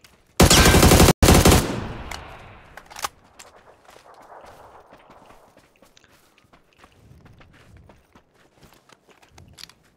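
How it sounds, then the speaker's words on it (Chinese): A loud burst of rapid automatic gunfire in a video game lasts about a second, then fades into a long tail of faint clicks and small scattered sounds. "这枪声是老版的吗？我他妈枪声没改。"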